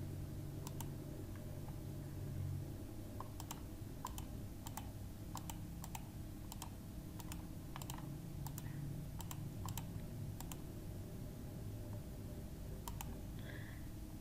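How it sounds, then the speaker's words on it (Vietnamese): Typing on a computer keyboard while entering Chinese characters with an input method, a steady run of light plastic key clicks with occasional sharper taps, close and alone over a low background hum. "chúng ta có thể chọn các cái nút ở đây để chúng ta sẽ gõ tiếng Trung ở trên bàn phím ở trong máy tính này"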